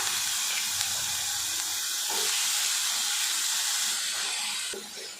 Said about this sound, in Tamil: பீர்க்கங்காய் சேர்த்துட்டு நல்லா கலந்து விட்டு வதக்கலாம்.